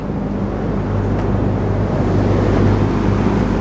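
Two Sturtevant Size 8 Design 5 propeller fans run together, giving a steady, loud whooshing rush of air with a low constant hum that swells slightly toward the end.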